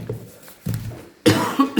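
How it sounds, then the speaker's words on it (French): Several harsh coughs from a person, a couple of softer ones followed by a louder, rougher burst near the end, close to the microphone with no speech. "pourquoi on tousse tous comme ça?"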